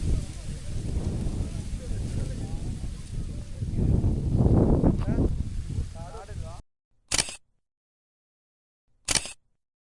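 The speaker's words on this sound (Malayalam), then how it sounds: "നല്ല കാറ്റുണ്ട്" Strong wind on a foggy hilltop in Idukki near Kalvari Mount buffets the microphone in a loud, steady roar for about six seconds, then cuts to near silence broken by two short bursts.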